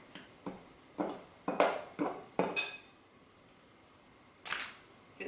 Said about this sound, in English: I'm just going to give the couscous a little stir to fluff it up a bit.